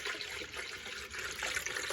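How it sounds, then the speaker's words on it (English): Water pours into the radiator of a car engine, a faint steady trickling splash that runs continuously for a couple of seconds without speech. "we're putting water in the engine right now"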